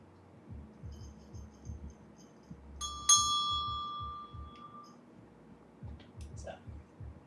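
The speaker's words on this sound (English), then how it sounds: "I am gonna ring my bell" A single small hand bell is struck once, ringing clear and close with a bright lingering tone that decays over about two seconds, while a low voice murmurs in the background before and after.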